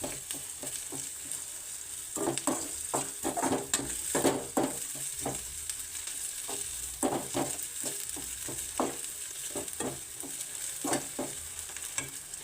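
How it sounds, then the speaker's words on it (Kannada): Crushed ginger and garlic fry in a pan with a steady, soft sizzle, broken by frequent scraping stirs of a utensil against the pan at an irregular rhythm, close by and alone. "ಫ್ರೈ ಆಗ್ತಾಯಿದೆ."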